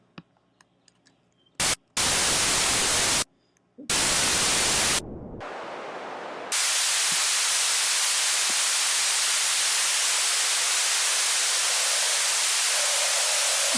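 Swedish House Mafia-style white noise rise effect: a few short hissing noise bursts separated by gaps, then a loud, sustained broadband hiss that holds steady to the end, with no speech.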